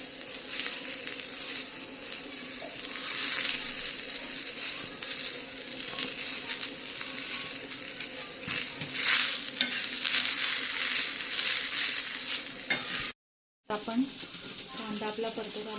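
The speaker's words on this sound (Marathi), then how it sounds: "आता आपण कांदाही परतून घेऊया त्याच्यामध्ये थोडंसं तेल टाकलं" Onion sautéing in a little oil in a pan, a continuous crackling sizzle with stirring scrapes throughout, briefly cutting out near the end.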